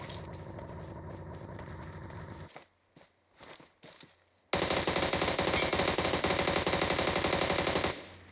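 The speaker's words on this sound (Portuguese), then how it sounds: "Tiro lá no morro." Rapid automatic gunfire in a first-person shooter video game rattles loudly and steadily, breaks into a few scattered shots, then returns as a dense sustained burst before cutting off.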